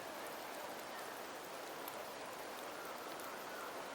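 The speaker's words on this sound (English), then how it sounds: "The rains in Septimont never seem eager to leave this season." Steady, faint rain falls in Septimont in the video game Wuthering Waves, an even hiss of drops with no talking and no breaks in its flow.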